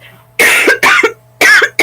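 A person coughs in harsh bursts, close and loud, three or four sharp coughs with brief pauses between them.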